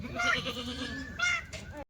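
A Kathiawari dairy goat bleats on a farm, giving a few short, wavering bleats close by at a fairly low level.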